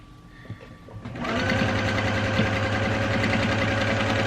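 A sewing machine stitching a neckband onto a plus-size dress starts up after a few faint handling noises and then runs in a steady, loud, close motor hum with rapid needle chatter.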